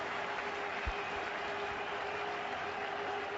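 Cricket crowd at Durham applauding Sachin Tendulkar's ODI century against England, with teammates standing on the balcony; a steady, broad wash of clapping and crowd noise from a distance, with no break.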